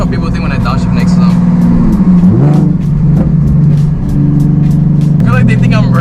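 A loud modified Nissan 370Z heard from inside the car drops a gear and blips its engine, the deep exhaust rumble swelling and settling under steady talking.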